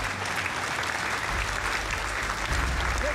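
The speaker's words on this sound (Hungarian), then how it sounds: "Azért jár a taps." Steady crowd applause in the F1 22 racing video game, even and continuous throughout, with no pauses.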